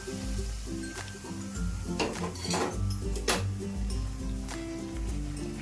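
A spoon stirs a thick sweet mixture in a pan, with repeated scraping strokes and light metallic clinks over a continuous low hum and faint sizzle, close and moderately loud.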